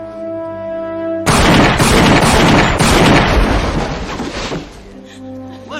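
Loud, close gunshot-like blast in a 1994 comedy film's alley fight scene, cutting sharply through the tonal film score and trailing off into a noisy decay before the music returns.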